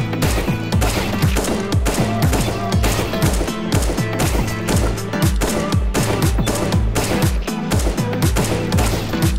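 Rapid automatic gunfire in a shooter game, Fortnite or Apex Legends, in headshot-only mode: dense, loud repeated shots in quick bursts with brief pauses, sustained close up for the whole stretch.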